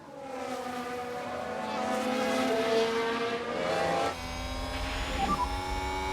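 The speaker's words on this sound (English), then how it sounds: "It's a lockup, and that could be costly." Replay in the F1 Manager 2022 racing game, with a 1991 mod, of an Aston Martin locking its brakes: a loud, steady, high-pitched engine whine that shifts abruptly partway through, then continues with a brief squeal near the end.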